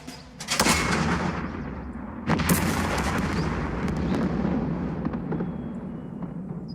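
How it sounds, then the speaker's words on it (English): Anti-tank gun firing in the video game Second Front, two sharp loud blasts a couple of seconds apart, each followed by a long rumbling decay, with no voices. "But that's the anti-tank gun."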